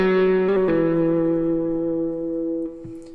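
A few quick picked electric guitar notes outlining an arpeggio, settling into a long, ringing sustained tone with distortion, slowly fading as another note is struck near the end.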